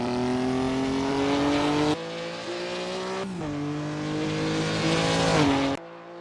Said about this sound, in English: Listen to the engine growl as he powers through